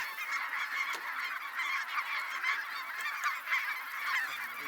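Geese honk repeatedly at a hunting outfitter in Saskatchewan, Canada, during a snowy hunt, a flock calling in overlapping bursts at moderate distance with no talk.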